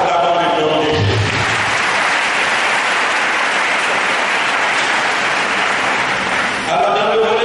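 A church congregation bursts into loud, sustained applause that fills the space for several seconds before fading, with speech briefly audible at the start and end.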